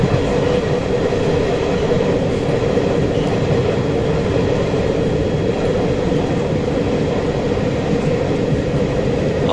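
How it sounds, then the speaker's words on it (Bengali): The Amaravati Express rolls along on its run from Kolkata toward Goa, heard from aboard as a continuous heavy rumble. A faint rhythmic clatter of the wheels runs beneath it, steady and unbroken, with no talk. "আমরা এই যে ট্রেনটায় যাচ্ছি অমরাবতী এক্সপ্রেস"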